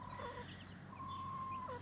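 Silkie chicks and grown chickens in a pen give soft clucks and a couple of thin high peeps, close and quiet, alone without talk.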